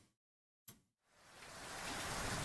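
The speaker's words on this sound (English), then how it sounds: "the rain starts to pour down on us, a curtain of water suddenly rendering any vision to a minimum" Heavy rain pours down as a steady, full hiss that swells in after a short silence and a faint thump, growing louder and more even to the end with no voices.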